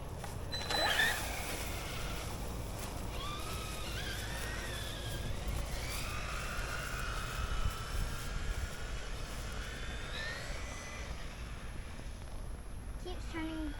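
Traxxas Maxx RC truck on new tires whining through a test run, a steady broadband motor drone with rising and falling pitch sweeps, fairly close, with people talking over it.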